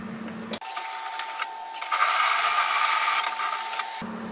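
A sewing machine stitches a messenger bag seam at a 1 cm (3/8 inch) allowance, running in one continuous close burst of rapid mechanical whirring for several seconds, starting and stopping abruptly, with no voices.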